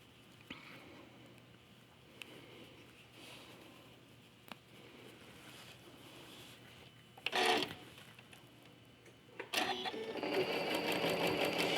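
A sewing machine stitches quilt blocks together in short, quiet bursts, with faint taps and fabric handling between runs.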